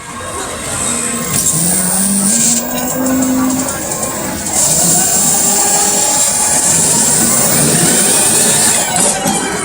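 An easy bike (battery auto-rickshaw) motor running steadily after its pinion gear was replaced, a continuous mechanical hum and whine with a high tonal component, heard close and loud throughout.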